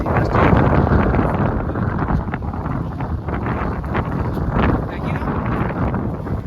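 Strong cold wind blows through a valley on a walk toward a waterfall, a loud continuous roar buffeting the microphone with gusts.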